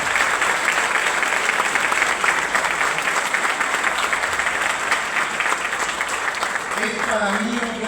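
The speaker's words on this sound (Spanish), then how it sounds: "un fuerte aplauso a nuestros invitados" An audience at a university honorary doctorate ceremony applauds its guests with dense, sustained clapping that stays loud and even throughout, and a few voices mix into the crowd.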